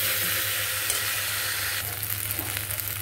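Coconut rice mixture made with basmati rice is stirred in a hot pan, with steady close sizzling and frying throughout and soft scraping strokes of the spoon becoming more prominent toward the end.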